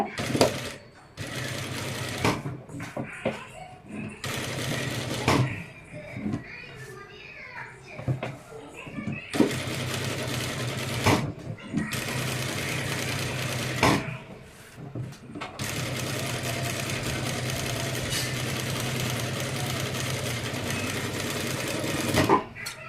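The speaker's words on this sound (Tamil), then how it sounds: "இப்போ அப்படியே நே மேலே நெக் வரைக்கும் நம்ம ஸ்டிச் பண்ணியாச்சு" A sewing machine stitches a blouse up toward the neckline, running in long steady bursts with short stops between them, while someone speaks and children's voices carry in the background.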